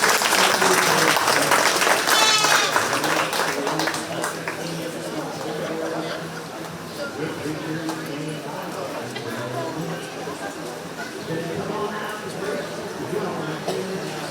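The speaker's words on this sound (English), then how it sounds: "let's go ahead and give this young lady a nice round of applause" Crowd applauding a young exhibitor at a 4H county fair goat show, a dense burst of clapping that is loudest at first and then settles into a softer, lingering patter, with voices and arena noise mixed in.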